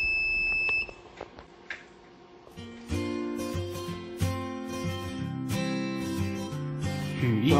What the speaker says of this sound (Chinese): 我们透过灾害警报器使得灾难来临时及时发出警讯通知屋子内的人员